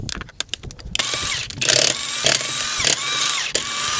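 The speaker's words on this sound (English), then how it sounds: "let's get the wheel off" A power tool whirs and ratchets while a wheel comes off a 1.0 litre VW Polo, first in a few short clicks and then in loud sustained bursts close by.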